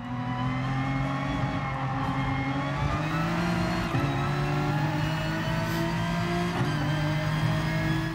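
Racing-game car engine droning steadily as the driver eases off the throttle, the pitch shifting and dipping in a few places, loud and continuous with no talk over it.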